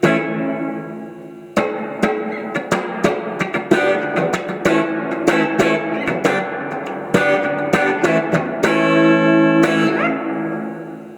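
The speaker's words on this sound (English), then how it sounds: "Have a listen to this reverb in preset number 98." Electric guitar chords and single notes played through a Fender Mustang GT40 amp on a reverb preset with a lush reverb tail, strummed rhythmically and ringing out between hits, loud and close.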